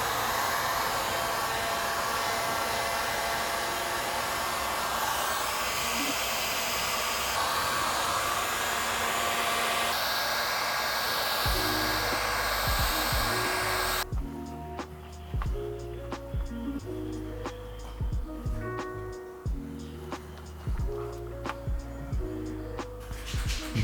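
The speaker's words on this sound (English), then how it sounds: "take our heat gun and just follow the edges one more time" A heat gun blows hot air along the edges of paint protection film on a car fender, a steady roaring whoosh that drops away partway through, leaving light ticks and clicks.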